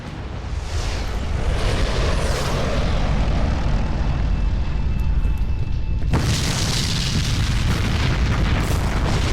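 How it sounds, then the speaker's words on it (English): A loud, sustained explosion roars in the F.E.A.R. Extraction Point video game, a broad rumbling blast that holds steady, then swells with a sharp burst of added noise partway through. "That's quite the explosion."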